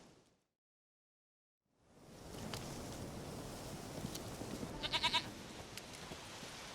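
Goat bleating in The Witcher 3 video game, a brief burst of several short bleats around the middle of the clip over steady outdoor wind ambience, following a moment of near silence at the start.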